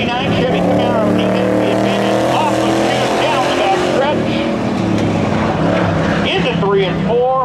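A 1985 Ford Thunderbird and a 1989 Chevy Camaro drag racing at Seekonk Speedway during a Labor Day spectator drag event, engines roaring loud and continuous with shifting pitch, while an announcer talks excitedly over them.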